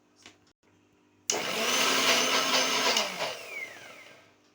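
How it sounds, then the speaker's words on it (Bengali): An electric kitchen blender grinding neem leaves and turmeric, starting abruptly after a quiet moment and running loud and steady for about three seconds before winding down. "দেখুন পুরো একদম ভালো করে ব্লেন্ড করা হয়ে গেছে"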